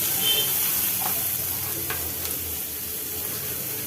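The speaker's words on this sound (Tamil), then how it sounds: "வெங்காயம் தேங்காய் கொஞ்சம் நல்லா ப்ரௌனாக வர வரையும் வதக்கிக்கலாம்." Sliced onion and grated coconut with salt sautéing in a pan, a loud, even sizzle that continues throughout, with a few faint spoon scrapes early on.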